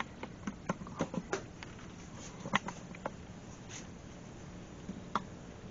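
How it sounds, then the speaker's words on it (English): Faint crackling and ticking from an electric water heater element heating water in a tank, scattered irregular pops over a low steady hum, close and quiet. "That is the sound of the heating element heating water"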